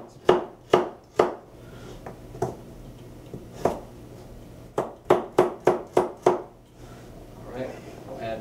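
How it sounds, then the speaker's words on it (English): A kitchen knife chops carrots on a cutting board in sharp, close knocks, a few spaced strokes followed by a quick run of about seven rapid chops, then quiet. "we're just going to give these a quick chop"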